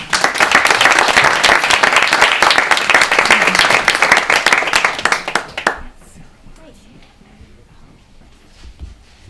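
Audience at a book reading in a bookstore applauds to welcome a reader, dense sustained clapping for several seconds that tapers off and stops, followed by quiet room noise.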